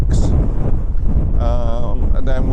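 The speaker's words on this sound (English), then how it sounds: "as you can hear, it's very, very windy" Strong wind buffets the microphone on a Lake District fell on the way up Hay Stacks, a loud, constant low roar with someone talking over it.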